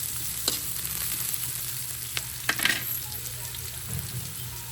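Onion and ginger frying in a pan, a soft steady sizzle with a few light clicks of a spatula, close and fairly quiet.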